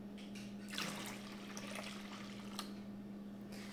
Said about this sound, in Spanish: le voy a agregar un poquito más de agua